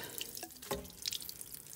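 Coolant drips and trickles from a disconnected radiator hose on a Chrysler Town and Country into a drain, a faint, scattered patter of a few drops and small splashes.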